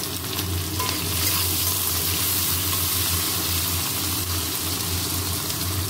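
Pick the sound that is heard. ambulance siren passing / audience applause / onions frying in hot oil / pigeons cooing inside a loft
onions frying in hot oil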